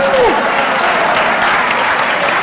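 A studio audience at a televised cricket quiz show applauds steadily and loudly throughout, a dense wash of clapping with a brief tonal sweep near the start.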